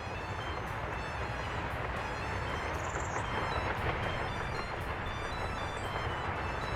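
A train rolls along in the Workers & Resources city-building game, a steady, faint rumble of rail traffic with no speech over it.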